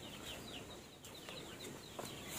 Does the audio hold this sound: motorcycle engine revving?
no